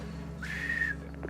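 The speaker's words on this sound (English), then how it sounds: "I'll blow the whistle and then we go, yeah?" A whistle blown during a WW1 trench warfare experience at Hawthorn Trench, one sharp sustained shrill blast of about half a second over outdoor background noise.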